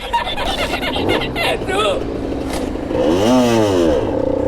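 A motorcycle with a worn clutch is restarted after stalling at a red light in Portugal, giving a close, loud engine burst and rev that rises and falls after a few seconds of clattering and someone talking.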